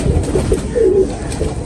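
A breeding pigeon, a female, coos close by in a few low, soft throaty phrases, with faint background murmur.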